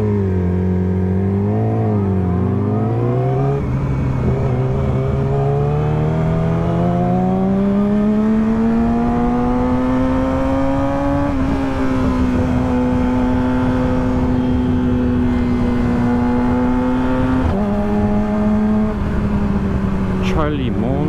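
A car accelerating in first gear, its engine a loud, close, continuous drone that climbs steadily in pitch, dips briefly, then holds a high steady tone.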